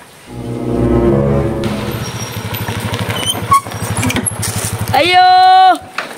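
A motorcycle arrives with a close, loud, rhythmic engine putter that builds and holds for several seconds, followed by a brief horn-like tone, with voices around it.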